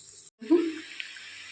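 Water pours briefly into a pan of cooked mustard paste seasoned with salt and turmeric, a short close splash and gush that fades within about a second.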